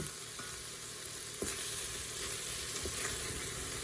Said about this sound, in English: let this sear a little while, and then we'll add the rest of our stuff